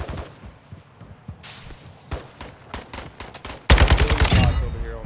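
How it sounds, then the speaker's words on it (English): Call of Duty Warzone DMZ gunfire: scattered distant shots early on, then a loud, close rapid automatic burst near the end, with faint game sounds between. "Shots to our left."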